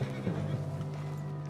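A horse whinnies in a long, quavering neigh in the video game Red Dead Redemption 2, with a steady low tone beneath, heard close and clear without any talking.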